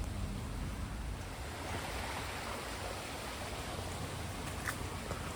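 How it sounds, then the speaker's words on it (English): Steady rushing water, like a stream flowing nearby, fills the clip as a constant broadband wash with no talking. "Just next to running water here."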